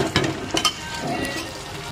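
Meat being stirred and fried in a pan, a steady broadband sizzle with a few louder scraping stirs near the start, fairly close and continuous, no voices.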